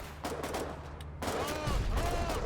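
Gunfire in the war video game Foxhole during colonial frontline fighting, a dense burst of rapid shots and blasts under a steady battlefield din, with ringing tones in the second half.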